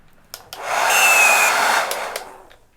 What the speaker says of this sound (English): I turned on my hair dryer and it sounded like this.